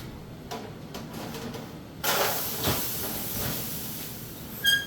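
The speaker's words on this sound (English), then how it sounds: "That steam is beginning" Steam hisses inside a hot oven after ice cubes are thrown in for baking ciabatta bread: a quiet stretch, then a sudden broad, steady hiss close by, with a few light clinks near the end.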